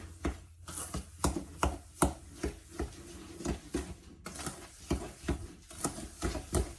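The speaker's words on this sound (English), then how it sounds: "Now we're going to mix this up" A spoon stirs 1.5 cups of brown sugar in a bowl until it dissolves, giving rhythmic scraping and knocking strokes about twice a second, close and fairly clear, with a short pause partway through.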